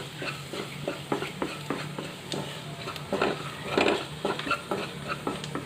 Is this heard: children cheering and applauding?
no